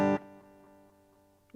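An echo setting on the DSP of a Phenyx Pro PTL-600 six-channel mixing board: a short instrument note hits loudly, then leaves a long, fading repeated tail before another note starts at the end.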